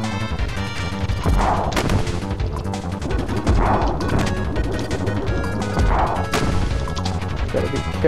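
Rocks come crashing down in the Kirby Super Star video game, three heavy smashing impacts spaced a couple of seconds apart over busy game music and effects.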